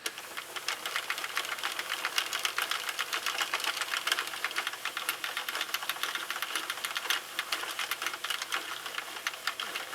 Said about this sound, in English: I'm going to just do a loose crank cast off this machine